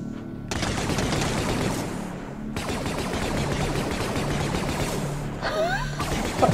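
Rapid blaster fire from a stormtrooper's weapon in a Star Wars zombie horror fan-made game, a dense, sustained barrage of loud shots that pauses briefly twice and then resumes.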